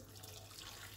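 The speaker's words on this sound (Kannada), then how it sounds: "ನೀರು ಹಾಕ್ತಾಯಿದ್ದೀನಿ." A short, steady rush of water pouring onto red rock sugar in a pot, close and fairly soft.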